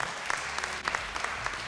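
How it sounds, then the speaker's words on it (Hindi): A studio audience claps on a televised Ramadan quiz show. The applause is brief but dense and fairly quiet, with individual claps poking through a steady wash. "तो इन तीनों के लिए बहुत सारी तालियां।"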